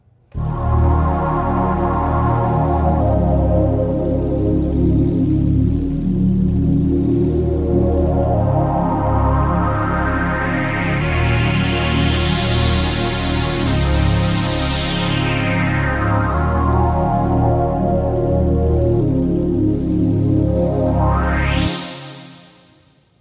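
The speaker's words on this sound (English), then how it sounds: "I have my SP-404 Mark II pushing MIDI out into my Arturia MicroFreak." A repeating Arturia MicroFreak synthesizer sequence, driven by an SP-404 Mark II sampler, plays continuously, its filter sweeping slowly up and back down, then rising again sharply before cutting off.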